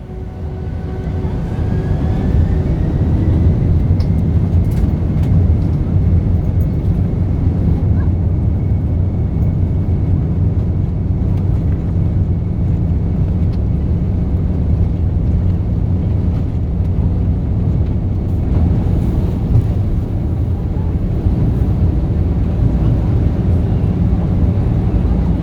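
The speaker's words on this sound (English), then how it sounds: "We taxied for about 25 minutes before finally lining up and soaring into the sky." A United Airlines Boeing 767-300 takes off from Newark, its engines producing a loud, steady roar that swells early on and then holds unbroken and powerful throughout.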